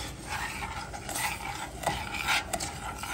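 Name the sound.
stirring evaporated milk and sugar in a pan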